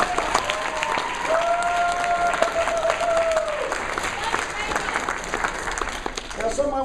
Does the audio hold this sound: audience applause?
yes